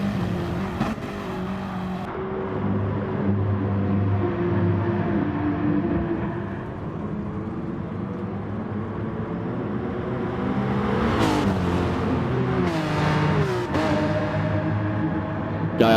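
Race car engines in a sim racing endurance replay at the Red Bull Ring, a loud continuous drone with shifting pitch and brief revving surges as cars brake and accelerate, no talk.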